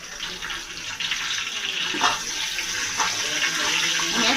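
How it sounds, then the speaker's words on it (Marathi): Curry leaves hit a hot pan while pav bhaji is being cooked, giving a steady, broad hiss and sizzle that swells slightly with a few louder crackles, close up and with no voices. "आता मी त्यात कढीपत्ता टाकते"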